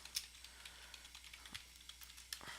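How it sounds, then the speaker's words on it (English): Quiet, close typing of code on a computer keyboard, irregular light key clicks in quick runs with brief pauses, alone without talk. "Yeah, I definitely already typed that loop."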